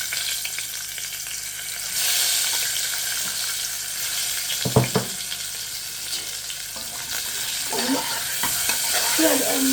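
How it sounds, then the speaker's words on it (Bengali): Potatoes fry and get stirred in a pan during home cooking, a soft continuous sizzle broken by a sharp utensil scrape near the middle and more clattering stirring toward the end. "আলুটা ভাজা দিলাম"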